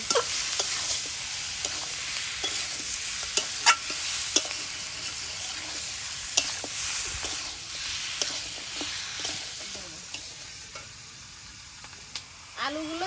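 Mutton mixed with turmeric powder and salt in a pot over sizzling heat, a continuous fry hiss broken by repeated scraping stirs and occasional clanks of the spoon against the metal.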